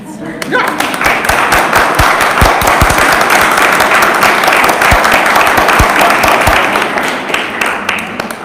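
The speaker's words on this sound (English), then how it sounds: "What a clapping that was." Loud, sustained applause from a church retreat congregation, dense clapping that swells in and then tapers off near the end.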